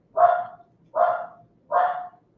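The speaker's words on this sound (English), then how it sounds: "Dogs are barking." Dogs bark three times in an even rhythm, each bark short and sharp, fairly close and alone against silence.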